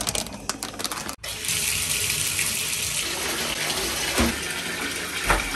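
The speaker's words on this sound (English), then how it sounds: "we just like filled the bath with like some really, really hot water" Hot water gushes from a tap into a filling bathtub, a loud steady rushing splash after a brief clatter at the start, with a couple of louder bumps near the end and no talk.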